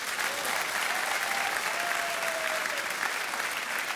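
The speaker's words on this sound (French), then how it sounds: "je voudrais s'il vous plaît que vous applaudissiez bien fort à la guitare Xavier" An audience at a televised music talent show applauds a guitarist, steady dense clapping that stays even from start to finish, with a faint whistle rising briefly above the crowd.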